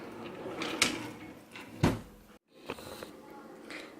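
A couple of sharp wooden knocks, like a small bathroom cabinet drawer sliding shut, with light rustling around them and a brief silence after.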